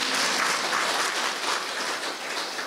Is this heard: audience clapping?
yes